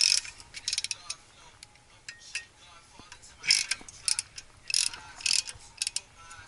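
Allen key working loose the transmission bolts on a Honda DC5 or EP3, a run of quick metallic ratcheting clicks and ticks in irregular bursts, close up and moderately loud with no talking.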